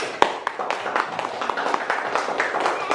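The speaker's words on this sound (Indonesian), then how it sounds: "Oke, kita berikan tepuk tangan untuk kelompok 2." A classroom of students claps for group 2 during a teacher's practice lesson on heat transfer, a continuous, moderately loud patter of hands with a few sharper individual claps standing out.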